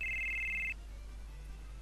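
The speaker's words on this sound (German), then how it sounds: "Mein Handy klingelt." A mobile phone rings in the video game Final Fantasy 7, giving a clear high electronic tone that stops short, then cuts back in after a pause, over a low steady hum.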